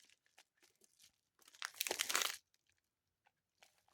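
Plastic wrap on a single Pokémon card package crinkles in a burst of about a second, loud and close, with faint scattered rustles before and after and no speech.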